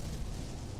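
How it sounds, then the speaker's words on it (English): A deep, sustained explosion rumble from the space game No Man's Sky, fired among asteroids, fills a short stretch at steady loudness with no voice over it. "Explosions are definitely a lot more impressive than they were before."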